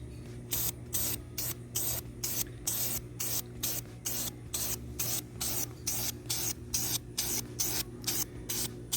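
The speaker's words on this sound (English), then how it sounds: "And I will spray oil only on intake side, not on both sides." Short bursts of aerosol filter oil spray hiss in a quick, regular rhythm, about twenty puffs close up onto the intake side of a K&N air filter, over a low steady hum.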